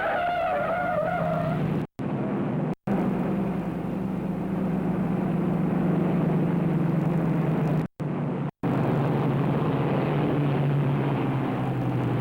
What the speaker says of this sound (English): And you heard that tire squeal?